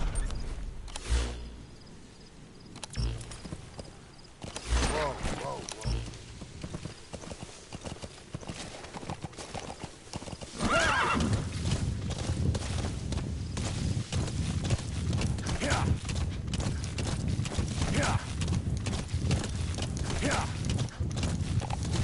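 Hooves clip-clop in a steady rhythm that speeds into a gallop, with a whinny and a rumbling background, no talking, from the video game Metal Gear Solid V.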